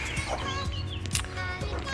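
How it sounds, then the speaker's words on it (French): A broody Serama hen sitting on a clutch of eggs clucks softly in low, repeated murmuring calls, close by, over steady background noise. "ma petite poule qui couve"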